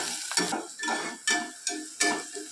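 Onion and tomato stirred and sautéed in a pan for a cauliflower gravy, with a steady sizzle broken by repeated scraping strokes of a spoon, close and moderately loud, no talking.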